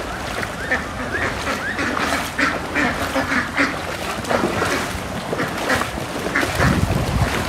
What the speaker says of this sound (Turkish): Öbür tek ördek de orada bekliyor.